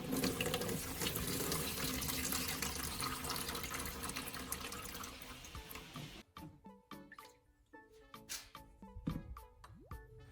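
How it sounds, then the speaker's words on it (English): Coca-Cola pours out of an old car battery into a tray, a steady splashing stream that breaks into scattered drips and trickles toward the end. "Pour the Coke out carefully into your tray."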